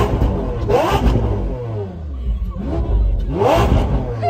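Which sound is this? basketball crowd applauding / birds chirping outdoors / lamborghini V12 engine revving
lamborghini V12 engine revving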